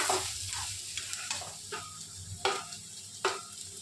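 Cauliflower pieces frying in a pan, a steady soft sizzle with occasional sharper crackles and stirring scrapes, fairly close and with no talking.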